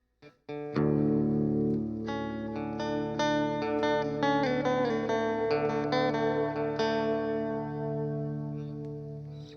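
Guitar played through a Boss reverb pedal on its Hall setting with all controls at middle, sustained chords ringing with a wide, washy hall reverb tail, loud and steady, fading slowly at the end.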